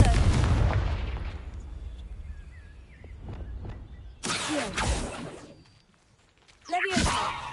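A video game explosion spell goes off in a deep booming blast with a rumbling tail, followed later by bursts of bright sizzling, crackling magic effects amid other game sounds.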